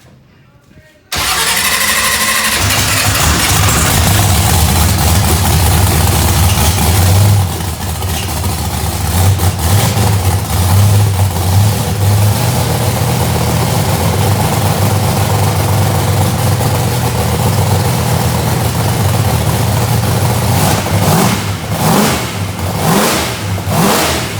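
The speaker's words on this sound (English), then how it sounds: "Crank it back up. It should crank fine." A procharged, race-ready Ford Mustang rated around 2000 horsepower cranks and fires, then settles into a loud, rough, lumpy idle close by, with some throttle blips near the end and voices talking over the engine.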